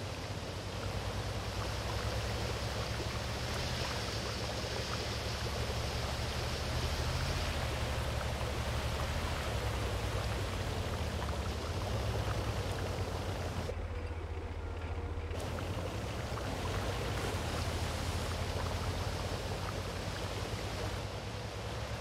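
A boiling-water sound in the game Crossout is a continuous bubbling, surf-like hiss over a low hum. It holds steady for over twenty seconds with a short dip partway through, and no voices.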